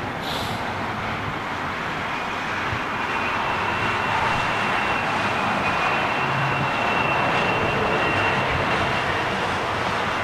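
Air Canada Boeing 777 with GE90 engines powering up for takeoff at Heathrow: a loud, steady, broadband jet roar with a faint whine riding on top, sustained throughout.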